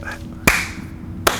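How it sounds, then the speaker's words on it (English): Two sharp hand claps land about a second apart, close and crisp, with a low murmur of background noise between them. "slow clap"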